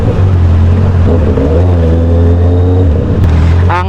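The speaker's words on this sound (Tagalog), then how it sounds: "Ibang iba yung tunog ng mga Benelli bikes, especially itong 600i." A Benelli 600i inline-four motorcycle engine revs loudly up close. A smooth, deep, even drone rises in pitch mid-clip, then settles back to idle, with a brief higher whine at the very end and no talking.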